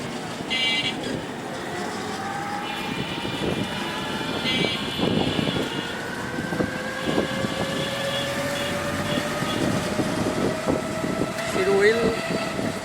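A train at a railway station in Rajshahi, Bangladesh, rumbles steadily with wheel and carriage noise and sustained squealing tones, while people talk and a busy street murmurs around it.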